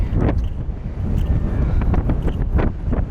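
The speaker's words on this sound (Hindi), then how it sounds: "क्या हवा चल रही है" Strong wind buffets the microphone at an outdoor viewpoint in Myanmar, a loud continuous rumbling roar with gusty swells and no clear speech.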